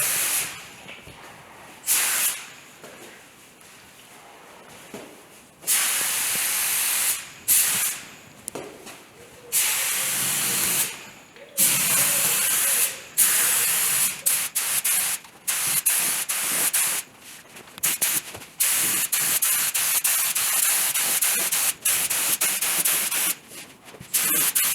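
Spray gun laying Sierra Gold paint onto a 1956 Chevy Bel Air under restoration. Repeated bursts of loud, steady hissing, some short and some several seconds long, are broken by brief quiet gaps.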